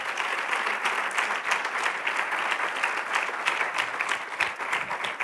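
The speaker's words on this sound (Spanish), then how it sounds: "Dale un fuerte aplauso" Church congregation applauding loudly and steadily during a Spanish-language sermon, a dense continuous clapping that holds without pause for several seconds, with no talk over it.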